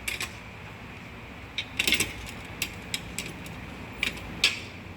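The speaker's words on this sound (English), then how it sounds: "I'm going to go ahead and grab my 7/16 line wrench." A 7/16 line wrench tightens a nut against an aluminum frame during assembly of a soft wash unit, giving a series of short ratcheting clicks and metallic ticks, close and fairly quiet, with no talking.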